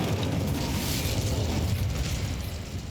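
Incendio fire spell cast in Hogwarts Legacy, a loud, sustained whooshing burst of flame roaring steadily for a few seconds before easing slightly at the end.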